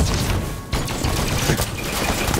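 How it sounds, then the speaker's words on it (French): Halo 5 gunfire in a multiplayer match: a quick burst of rapid shots and impacts, loud and close, with a brief gap before firing resumes. "Il nous tire dessus."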